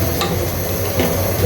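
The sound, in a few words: stirring tamarind chutney in a pan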